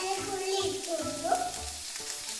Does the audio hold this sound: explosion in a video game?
no